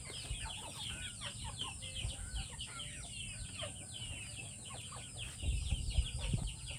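Chickens cluck and chatter continuously in a busy coop, many birds overlapping at moderate distance, with a louder burst of clucking near the end.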